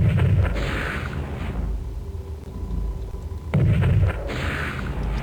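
Two heavy artillery blasts in the Spellcross game, a few seconds apart, each a deep low boom over a steady rumbling background.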